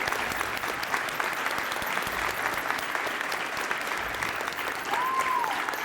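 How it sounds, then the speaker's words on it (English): Warm applause at a high school letter-of-intent signing for a new collegiate athlete; continuous clapping from a gathered crowd, moderately close and even, with a brief whistle near the end. "let's give a big round of applause to your newest collegiate athlete"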